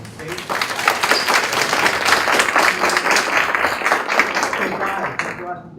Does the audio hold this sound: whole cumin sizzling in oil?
no